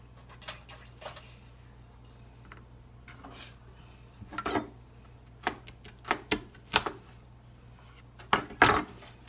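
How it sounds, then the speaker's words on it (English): A kitchen knife cuts through roasted butternut squash in a home kitchen, giving scattered knocks and clacks of the blade against the board, some louder than others, over a quiet background hum. "Can I just cut this in half?"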